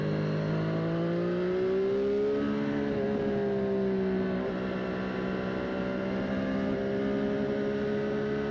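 Engine of a Triumph Street Triple 765 RS naked motorcycle on a test ride, a steady droning tone that rises and dips as the throttle changes, with strong wind rush throughout.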